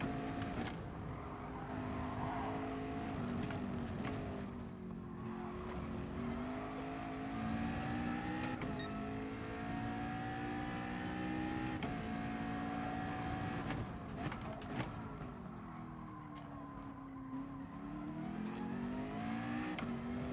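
A McLaren race car engine in GT Sport, revving and shifting continuously with rising and falling pitch over a long stretch, steady and close, with brief gear-change dips.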